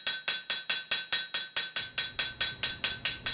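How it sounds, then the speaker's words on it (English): A small hammer strikes a wrought iron tsuba in quick, steady taps, about four per second. Each tap is bright and metallic with a short ringing decay, close up and loud, with no talk. "So I went ahead and textured it with a small hammer."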